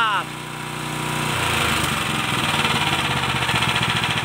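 A Honda GX270 9HP gasoline engine in black finish catches after a brief voice and runs up to a loud, steady, buzzing chug, close to the microphone, with a fast rhythmic pulse.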